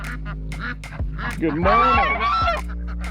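Ducks being let out of their pen in the morning: a burst of loud, nasal quacks and honks close by, rising into a noisy cluster midway while a person greets them.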